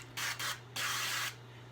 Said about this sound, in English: we're going to give it a good shake and spray these really good